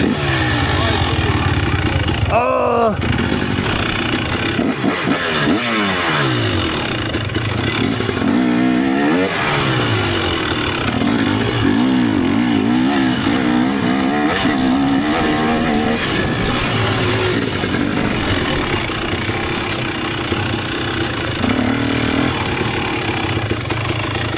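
Dirt bike engines rev loudly and continuously through a Jamaican alley, with rising and falling whines as the bikes accelerate and pass close by, and voices faintly under the engine noise.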